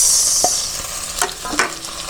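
Onion and tomato sauté in a pan for salmon head sinigang with miso, with a steady sizzle broken by a few sharp spoon scrapes and stirs, close and fairly loud.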